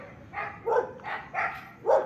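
A dog at night in a grassy field, five sharp barks in an irregular rhythm, each one fairly loud and close, with quiet gaps between them.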